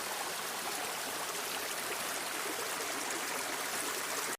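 A forest river flows steadily nearby, a continuous broadband rush of running water with no pauses and no voices over it.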